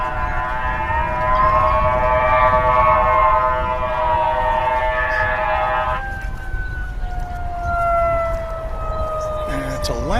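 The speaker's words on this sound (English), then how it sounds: "And it's a ladder truck going out" A fire department ladder truck's siren wails at DFW airport, a loud, sustained rising-and-falling tone that shifts pitch partway through as the vehicle moves off, with steady background rumble.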